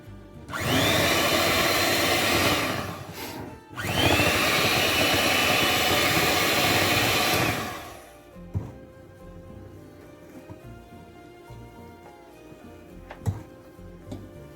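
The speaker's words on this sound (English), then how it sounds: "We will beat it on the speed 1 or the lower speed." Electric hand beater whirring steadily on low speed through cake batter for marble sponge cake, with a brief pause near the start, then cutting off after several seconds, followed by quieter scraping and small knocks.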